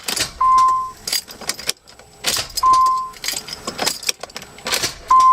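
A Nissan Fairlady Z32's starter cranks the engine in several short, whirring bursts with brief pauses between, close and loud, alongside a steady electronic warning beep and key clicks.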